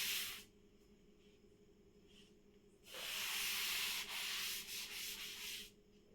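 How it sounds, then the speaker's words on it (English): An eraser rubs writing off a classroom board, giving a brief scrubbing swipe at the start and then a longer, steady run of rough strokes lasting a few seconds, close and fairly clear in a quiet room. "I will rub this."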